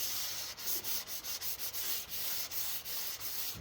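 Steady back-and-forth rasp of 240-grit sandpaper worked over a guitar fretboard during an Ibanez Roadstar refret, a run of short rhythmic strokes with brief gaps, close and alone.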